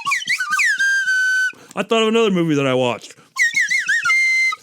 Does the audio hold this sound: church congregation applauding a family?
no